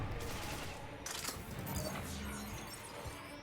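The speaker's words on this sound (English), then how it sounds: "Shotgun doesn't feel as powerful as like the shotgun of Mass Effect 1 and 2." Shotgun blasts in Mass Effect 3, a few muffled booming shots over a busy, noisy battle background, fairly quiet overall.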